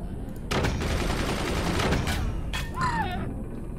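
Mortars fire in the Forts strategy game as a dense rumbling barrage of booms, followed by a second burst and a short rising whistle near the end.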